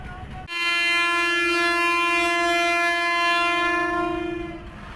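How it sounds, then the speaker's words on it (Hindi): A CRRC Tangshan train sounds a long, steady horn blast signalling departure from a platform, loud and close, sustained for about four seconds before fading. "PH-20 का एक लंबा विसल था जो कि बताता है कि ट्रेन अभी अपना जर्नी स्टार्ट कर रही है"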